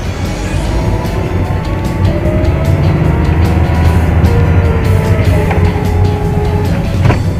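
A car driven by a learner driver accelerates, heard from inside as a loud, steady engine drone with road rumble that holds throughout.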